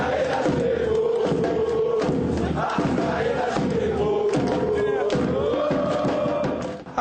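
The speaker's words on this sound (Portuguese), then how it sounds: "A torcida cruzeirense fez a festa na sede do clube para receber mais um reforço" Football supporters of Cruzeiro crowd the club headquarters, cheering and chanting to greet Uruguayan midfielder De Arrascaeta, a new signing; a loud, sustained roar of many voices with rhythmic shouts and thuds, continuous throughout.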